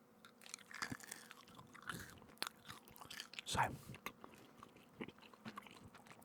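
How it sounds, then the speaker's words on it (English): Chewing gum is worked softly in the mouth close to the microphone, giving quiet, wet, irregular chews and smacks, with a brief spoken word in a whisper-level voice. "Let me just pop another chewing gum."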